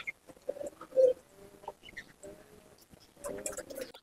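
Malwai pigeons in a loft give soft, faint coos and low murmurs in short bursts, with one clearer call near the start amid quiet rustling.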